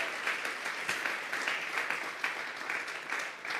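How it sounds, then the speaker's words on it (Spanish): Church congregation applauding together during a worship service, a dense, steady patter of clapping that holds for several seconds at moderate distance with no voices over it. "Vamos a regalarle ofrenda de palmas al Dios de la gloria."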